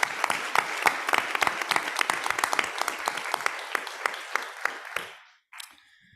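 A room at a school board meeting fills with steady applause from a modest crowd, many hands clapping together before the sound thins out and stops, followed by a brief final rustle.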